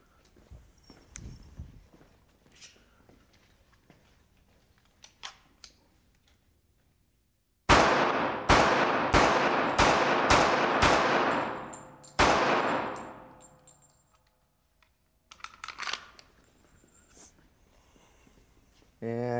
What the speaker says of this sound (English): put a few 45s in there like we did with the 9, and see what happens after 4 or 5 shots.